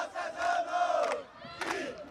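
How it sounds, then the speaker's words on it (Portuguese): Parents and students in the stands chant and cheer for their team at a youth seven-a-side football tournament, a loud rhythmic crowd chorus rising in two surges. "Pais e alunos se reuniram e começaram a torcer, incentivando a equipe que estava em campo."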